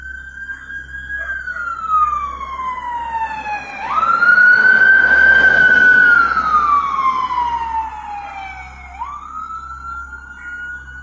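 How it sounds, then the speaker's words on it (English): An ambulance siren wails past on a street at night, its pitch sweeping up and down in long slow cycles, loudest as it draws near mid-way, then falling in pitch and fading as it moves off. "Then, when an ambulance passed by, the strangeness made him feel even more uneasy"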